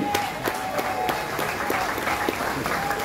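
An audience at a French community gathering claps for an honoured volunteer, dense steady applause with individual claps audible throughout a short burst, fairly close.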